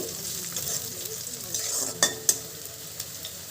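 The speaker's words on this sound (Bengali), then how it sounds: "কাঁচা লঙ্কা কুচি আর দেব রসুন কুচি দিয়ে এটাকে আমি ভালোভাবে লাল লাল করে ভেজে নেব" Chopped green chillies and garlic fry in oil for a red amaranth greens chachchari, a bright crackling sizzle near the pan with brisk stirring and a couple of sharp metal clinks against it, no voices.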